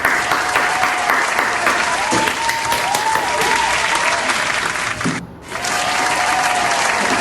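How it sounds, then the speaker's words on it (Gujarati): A comedy podcast audience applauds loudly and continuously to welcome a guest, with a brief dip near the end before the clapping resumes; whistles or cheers ring faintly within it. "તો ગાઈઝ તાળીઓથી વધારીએ એમને."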